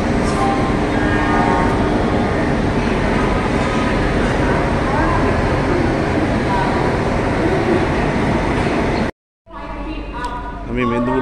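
A Medinipur local train at Howrah station, a loud, continuous rumble of the train and station din filling the scene, cut by a brief dropout near the end before quieter noise resumes.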